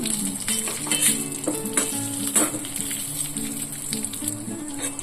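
Palathaalikalu made with jaggery fry in a pan, giving a steady close sizzle. Soft clinks and stirring sounds come and go over the frying hiss, and no one speaks.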